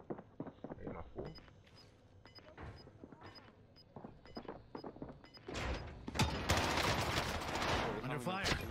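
Gunfire in Call of Duty Warzone on Rebirth Island, starting as scattered separate shots and building into a loud, dense burst of automatic fire in the second half, with people talking in between.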